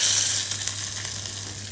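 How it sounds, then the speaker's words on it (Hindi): Hot tempering with asafoetida is poured into Gujarati handvo batter, giving a loud, bright sizzle that starts at once and fades slightly as it settles, with no talking. "ये वाला हमारा छौंक हम बैटर में डालेंगे"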